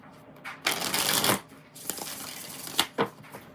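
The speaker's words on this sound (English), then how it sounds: "Whatever comes out, 5 shuffles." Shuffling a deck of cards for a tarot-style reading: several close, crisp riffling bursts, one long and a few shorter, with quiet gaps between.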